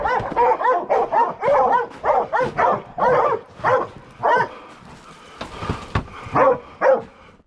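Several hunting hounds on a coyote trail bark and bay in overlapping bursts, fairly close and loud, with excited yips mixed into a steady, restless rhythm.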